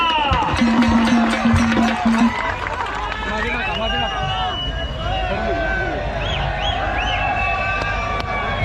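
Loud crowd at an outdoor wrestling match, with shrill whistles cutting through steady babble; several sharp whistle bursts early on, then overlapping crowd noise and a commentator's voice continuing over it.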